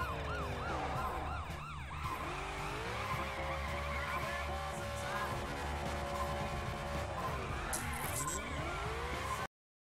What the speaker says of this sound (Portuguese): É uma virada de carro